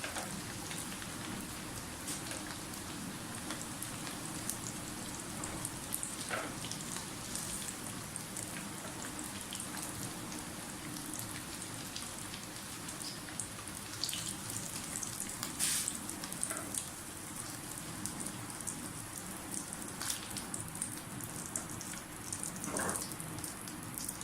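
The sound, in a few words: potatoes frying in a pan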